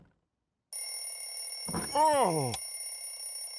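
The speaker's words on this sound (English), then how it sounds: "It turns out Candy had set their alarm clock so they wouldn't miss the New Year." A cartoon alarm clock rings in a short, bright burst after a moment of silence, followed by an exclaiming voice over a steady tonal background.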